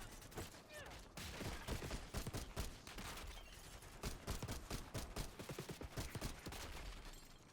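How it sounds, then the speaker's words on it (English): Enemy gunfire in the Black Ops 6 campaign: sustained rapid volleys of automatic fire crackle throughout, dense and continuous with dull impacts, at a modest overall level. "There's an enemy shooting you from here."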